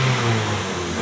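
A 2008 Toyota Vios engine running smoothly after a repair to its injector fault, giving a short, steady idle hum up close with no stutter and nobody speaking.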